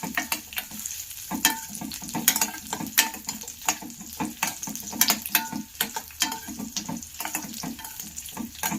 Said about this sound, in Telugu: ఫ్లేమ్ తగ్గించుకొని సిమ్లో పెట్టుకొని ఈ డ్రై ఫ్రూట్స్ని ఫ్రై చేసుకోవాలి.